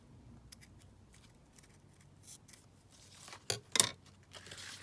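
Scissors snip through craft ribbon in a couple of sharp, close cuts near the end, after a stretch of soft rustling and handling in a quiet room, with no voices.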